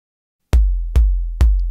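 Synthesized kick drum on a Roland MC-707, built from a sine-wave oscillator: three deep, punchy booms evenly spaced after a short silence, each decaying slowly, with nothing else heard.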